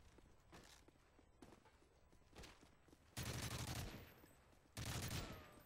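Bursts of gunfire striking a riot shield in Modern Warfare 3 multiplayer, several short sharp volleys followed by two louder sustained bursts of rapid impacts, fairly close.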